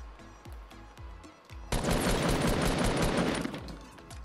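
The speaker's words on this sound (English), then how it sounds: "Oh, it's him shooting, dude." Gunfire in the battle royale video game Fortnite. Quiet game ambience gives way to a sudden loud, dense burst of overlapping shots that keeps going for several seconds.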